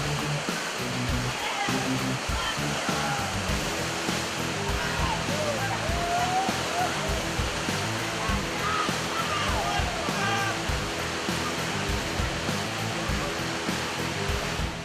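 Class 4 whitewater rapids on the Iron River, several hundred yards long, roar as a steady, loud broadband rush of churning water that fills the whole stretch without pause.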